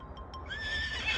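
A horse neighs in a short, rising whinny that is clear and fairly close over a low background rumble.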